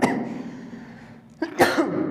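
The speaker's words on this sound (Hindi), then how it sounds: "खांसी हो गई है, सॉरी।" A man coughs sharply during a math lesson, one or two harsh bursts cutting through the steady room tone after a stretch of his voice.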